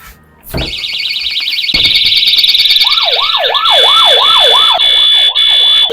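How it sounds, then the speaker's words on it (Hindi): Loud security alarms blare together in an observatory: a rapid warbling tone joined by a wailing siren sweep that rises and falls repeatedly. "सारे सिक्योरिटी अलार्म एक्टिवेट हो गए हैं"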